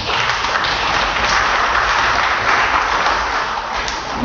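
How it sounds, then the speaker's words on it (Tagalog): Church congregation at a Tagalog service applauds in a loud, continuous burst of many hands clapping together, filling the room evenly from start to finish. "Di ba pinapalakpakan nun, mga kapatid?"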